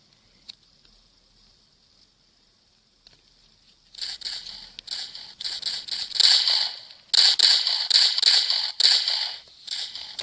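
Rapid bursts of pistol fire in the mobile shooter game Standoff crackle in quick strings of sharp cracks, loud and near, following a few quiet seconds.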